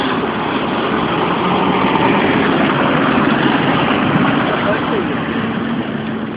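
Steady, loud engine idle running throughout with a low rumbling drone, continuous and unbroken.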